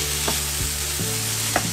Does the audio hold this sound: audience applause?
no